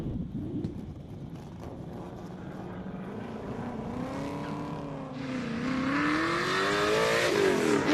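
An XY Falcon climbing a hillclimb course, its engine note rising and revving harder and louder toward the end, heard from a distance with no talk.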